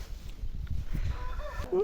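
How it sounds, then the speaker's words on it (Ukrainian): Roosters crow, one loud cry rising near the end over faint low background noise and scattered clucking. "Розпівалися півні."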